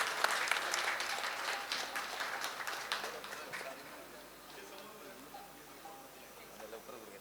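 Audience applause at an evening concert of Marathi devotional and light songs, a faint, dense patter of clapping that is strongest at first and then thins and fades away over several seconds.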